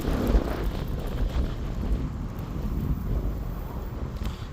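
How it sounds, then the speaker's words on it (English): Strong outdoor wind buffeting a microphone, a loud continuous low rumble with gusty fluctuations throughout, close and dominant. "Wind is bad."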